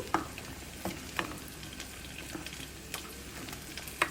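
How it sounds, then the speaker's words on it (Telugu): Cooked lentils being stirred into a simmering vegetable sambar with tomatoes and okra: a soft background sizzle broken by about half a dozen sharp spoon knocks against the pot at irregular intervals. "ఈ పప్పు ఇందులో వేసిన తర్వాత ఇలా బాగా కలిగి తిప్పుకుని"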